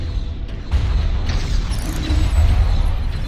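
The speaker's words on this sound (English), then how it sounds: "Firing missiles." Missile launches in space combat from the game Starpoint Gemini 2, deep booming thumps and mechanical rumble in two heavy pulses, loud and close with no talk.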